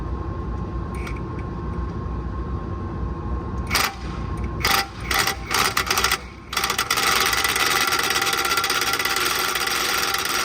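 Impact gun tightening the lower ball joint nut on a 1992–2000 Honda Civic through a chrome socket: several short rattling bursts, then a sustained buzzing run, loud and close with no talk.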